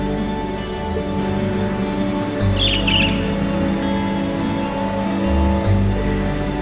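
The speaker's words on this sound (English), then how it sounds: "A bird?" A short burst of bird chirps from the video game Trails of Cold Steel rises briefly over steady, dense game music and ambience.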